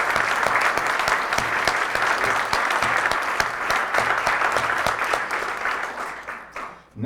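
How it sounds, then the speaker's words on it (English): An audience at a North Country regional public meeting applauds the event staff, steady dense clapping from a room of people that carries on for several seconds and then fades away near the end. "Could we please give them a round of applause?"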